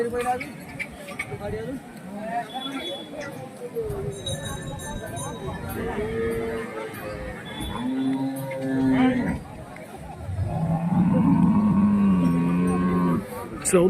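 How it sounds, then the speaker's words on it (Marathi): Cattle moo repeatedly, low drawn-out calls from several animals close by, over a busy background of people talking at a livestock market. "अरे गायच गाय"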